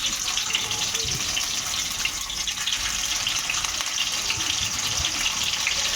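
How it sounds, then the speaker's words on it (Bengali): Marinated eggs frying in a pan, giving a steady, dense hiss and crackle of hot oil that holds even throughout. "ডিমগুলো আমরা একটু লাল লাল করে ভাজবো"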